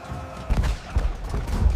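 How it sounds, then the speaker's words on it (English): Battle cannon fire at White Mountain in 1620 rumbles as a run of deep, heavy booms and thuds, several overlapping blasts in quick succession, loud and dense. "Cannons roar."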